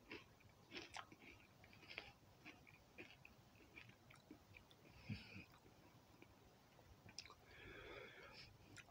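Quiet, close-up crunches and bites of a Chataka Pataka snack come in sparse bursts, with small mouth clicks and soft breathing between them.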